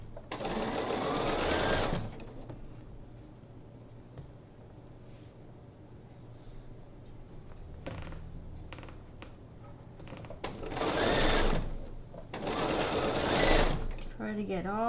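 Sewing machine stitching a quilt block with a quarter-inch seam, bursts of fast mechanical whirring at the start and end with quieter handling and murmured talk in between.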